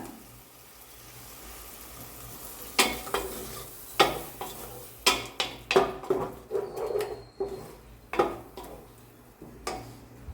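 Ground spice paste is stirred into tomato frying in oil in a pan, giving a soft sizzle under repeated loud scrapes and clanks of a spoon against the pan.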